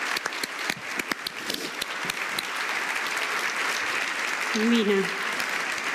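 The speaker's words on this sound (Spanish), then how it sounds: "Y el aplauso es para vos." Auditorium audience applauding at a keynote event, steady dense clapping throughout with a brief spoken word and a faint voice partway through.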